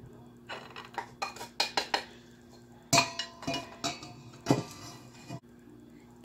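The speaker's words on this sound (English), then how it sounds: "I'm just putting it into this bigger bowl" Clinks and knocks of a metal or ceramic mixing bowl being handled while flour is tipped into a bigger bowl, a series of sharp taps and rattles in quick succession, close by and fairly quiet.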